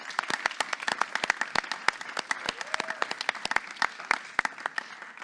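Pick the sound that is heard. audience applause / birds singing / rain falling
audience applause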